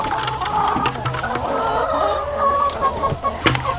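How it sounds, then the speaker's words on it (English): Chickens cluck and chatter busily in a farm coop at close range, a rooster crowing briefly among the hens, with no talk over them. "All right, my chickens."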